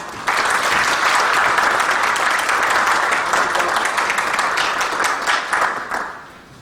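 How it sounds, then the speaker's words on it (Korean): An audience at a defense safety symposium opening ceremony applauds to welcome the head of a safety culture society for his keynote. The clapping is dense and steady, holds for about six seconds, then fades away. "박수로 맞이해 주시기 바랍니다"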